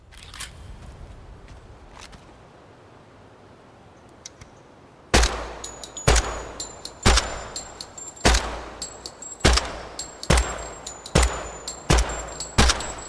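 Rifle gunfire in a video game: a few faint distant pops first, then a string of loud, evenly spaced single shots, about a dozen sharp cracks each with a short echoing tail.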